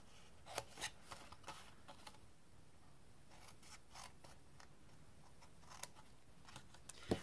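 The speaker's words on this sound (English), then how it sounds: "And then on this one, I'm going to cut all 4 away." Scissors snip through scored cardstock while making a craft box, producing faint, close, irregular crisp cuts and light paper rustles against a quiet room.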